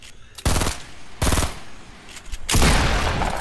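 Video game gunfire sounds as three loud bursts of rapid automatic shots, each roughly a quarter to half a second long, with a longer rattling burst at the end over a noisy background.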